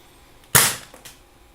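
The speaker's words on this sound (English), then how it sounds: "when I cock this back and shoot at that sign" A toy gun fires at a sign, giving one sharp close snap with a fast-fading tail, followed by a fainter small knock a half second later; no voices.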